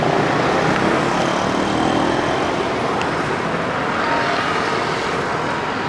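A drone flies over an LRT Phase 1B construction site in Jakarta, giving a loud, steady broadband whir with rushing wind noise that holds constant and close throughout, with no talk.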